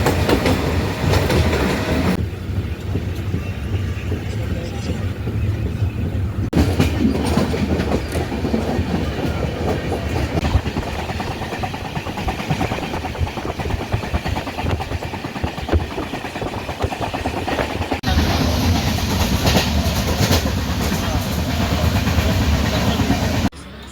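A passenger train heading to Daund rolls along the rails with a loud, steady rumble and rhythmic clickety-clack from the wagons, heard from on board for the whole stretch, with no talk.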